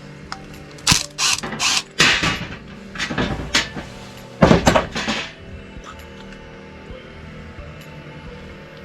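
Pressure washer carburetor being taken apart on a bench, with a run of close metallic clicks, clatters and rattles from small parts and tools in irregular bursts, followed by a quiet pause.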